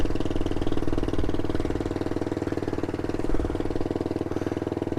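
Suzuki DR250S motorcycle idling through a Dominator R exhaust fitted with a hard baffle, a close, loud and steady rapid thumping pulse from the single-cylinder engine with slight fluctuations in level.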